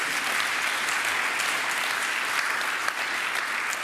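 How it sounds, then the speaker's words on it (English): Steady, dense applause from a conference audience for a panel of speakers, sustained at an even level for about four seconds with no voices. "A round of applause, please, for our panelists"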